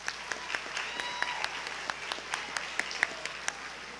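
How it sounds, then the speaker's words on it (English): An awards ceremony crowd at the 2017 NC National History Day event claps in a long, even round of applause, with a few sharper individual claps standing out against the wash of hands. "Give them a round of applause."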